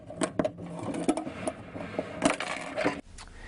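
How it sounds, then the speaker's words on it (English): Plastic posts on snap toggles for a Rev-A-Shelf pullout wood pantry are bent back and forth until they break off, giving a handful of sharp snaps and clicks over faint scraping. "simply bend the plastic posts back and forth until they snap off"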